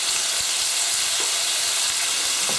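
Red peppers dropped into a hot paella pan give a steady, broad frying sizzle that stays loud throughout, with a few soft stirring knocks and clicks. No one speaks.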